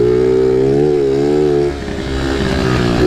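A pit bike idles and revs in a driveway, its small single engine buzzing loud and close with a rising, wavering pitch before it settles back into a rougher, lower putter.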